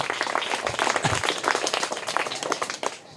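Young third-grade children in a classroom clap loudly together in a dense, continuous burst of applause, with no voices over it, until it fades briefly at the end.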